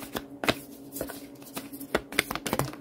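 Tarot cards are shuffled by hand during an Aquarius reading, giving a quick run of crisp papery riffles and soft slaps in several close, uneven bursts with no talking.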